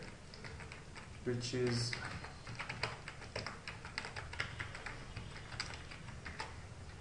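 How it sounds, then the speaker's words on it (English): Username and password typed on a computer keyboard, a run of light, quick, fairly close key clicks under a brief spoken phrase. "So I type it here"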